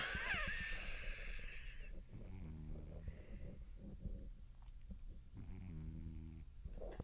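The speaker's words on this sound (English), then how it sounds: "my cat's snoring really loud" An old cat snores loudly close by, with raspy, wheezing inhalations repeating in a slow rhythm over several breaths, with a brief high scratchy noise at the start.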